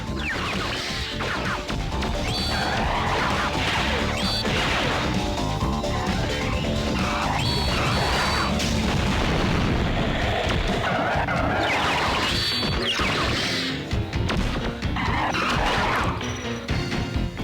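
Star gun blasts and crashing impacts from the Custom Robo video game, a continuous loud barrage of skidding, smashing hits with no pauses.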